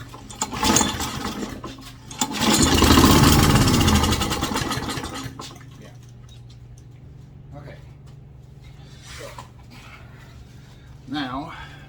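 A lawnmower engine with a carburetor problem after sitting unused cranks and catches, running loudly for a couple of seconds before dying out, followed by quieter mechanical noises and faint handling sounds.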